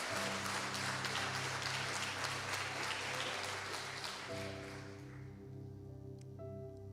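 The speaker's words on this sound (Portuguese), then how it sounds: "Alguém aplauda Jesus" A church congregation applauds in dense, sustained clapping that fills the space, then thins out as a steady organ or keyboard chord holds underneath.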